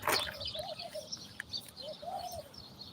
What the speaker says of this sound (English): Oh, the birds are celebrating.